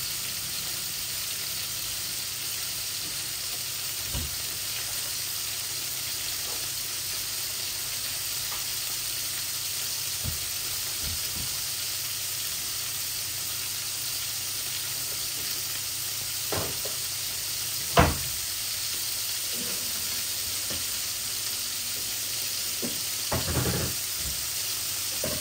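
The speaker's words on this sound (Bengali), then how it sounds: "আমার জিরাগুলা ভাজা ভাজা হয়ে গেছে" Cumin seeds and bay leaves fry in hot oil for a tilapia and potato curry, giving a long, even, close sizzling hiss with occasional faint knocks of a utensil and no speech.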